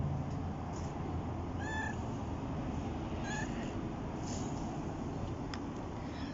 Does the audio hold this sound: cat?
yes